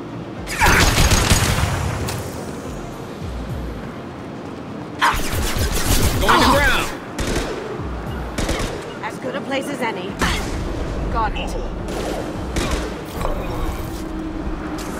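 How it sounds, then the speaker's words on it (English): High-impact gunshots crack from a weapon in Mass Effect 2, several loud sharp blasts with rumbling tails over game ambience and background effects. "Firing a high impact shot."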